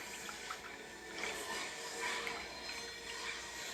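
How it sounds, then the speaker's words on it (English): Make-up brush rinsed in a basin of lukewarm water, a continuous close splashing and sloshing wash of water lasting a few seconds with no talking. "I'm gonna put it into that lukewarm water and rinse it off."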